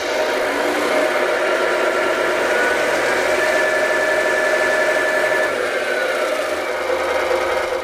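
Simulated engine sound from a multi-function unit on a Tamiya RC truck, a steady droning in gear with a faint whine rising and holding, continuous and moderately loud without talk.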